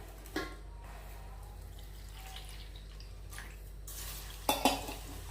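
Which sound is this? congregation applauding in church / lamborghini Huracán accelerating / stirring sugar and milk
stirring sugar and milk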